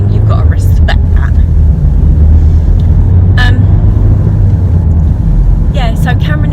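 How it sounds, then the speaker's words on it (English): A big lorry passes close on a wet road, a loud continuous low roar under constant road noise, with brief sharp bursts and a horn-like toot on top. "let me stay away from this big lorry"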